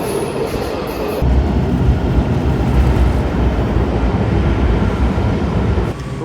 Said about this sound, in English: All right, first train of the game.